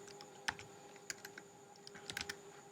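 Code being typed on a computer keyboard: quiet, sparse keystrokes in short irregular bursts over a low steady hum, with no talking.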